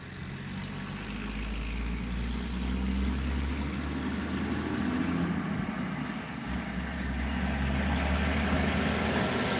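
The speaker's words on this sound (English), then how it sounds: "here comes that truck" A truck rolls past on a road, a steady low engine rumble and tire roar that swells and holds, with a brief dip midway, heard from nearby without talk.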